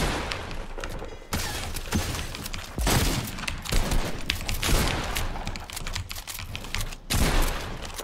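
Pump shotgun blasts and gunfire in a Fortnite match, with loud, sharp bursts repeating irregularly over a dense layer of battle noise, close and forceful throughout.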